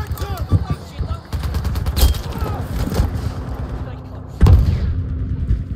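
Gunfire in Battlefield V on the Rotterdam map during a Conquest match: dense, rapid shots and heavy thuds mixed with battlefield noise, with a loud burst near the end, while players talk over it.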